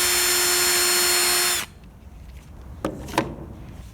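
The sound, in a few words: drilling a hole in wooden model fuselage with a nail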